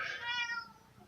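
A single short meow from a cat nearby, fairly soft, fading quickly.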